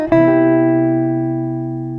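A jazz guitar phrase ending on the flat 9 of a dominant chord: a quick picked pickup note, then a sustained tone that rings out and gradually decays, played alone without speech.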